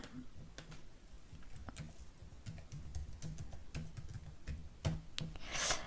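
Light typing on a computer keyboard, soft close key clicks in an irregular run, quiet and alone without speech.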